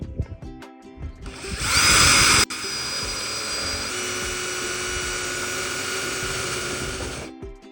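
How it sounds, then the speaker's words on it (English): A power drill bores a hole for a water pump in a homemade recirculating fountain, whining loudly and steadily for about six seconds after a few short starts, with a brief surge partway through. "I'm going to drill the hole for the pump"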